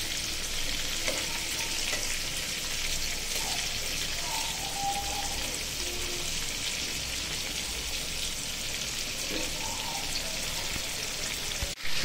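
Shrimp frying lightly in a shallow layer of oil, giving a steady, close, even sizzle with crackle that runs the whole time without pause and with no voices.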